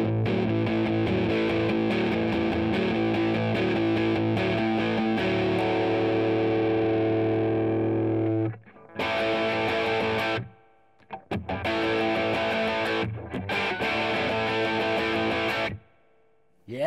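Electric guitar run through a Mesa Boogie Mark V combo tube amp on channel 2, playing loud, heavily distorted sustained chords that ring out, then short choppy bursts separated by brief silences.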